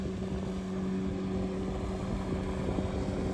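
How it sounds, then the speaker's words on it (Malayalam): A distant speedboat engine drones steadily across an open dam reservoir in Idukki, a low continuous hum with light wind noise and no speech. "ആ സ്പീഡ് ബോട്ട് വരുന്നതാണോ"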